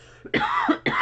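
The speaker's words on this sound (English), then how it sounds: "I'm coughing my head off because I have allergies" Two sharp, close coughs in quick succession from a person with allergies, each a harsh burst, with a brief faint throat sound just before.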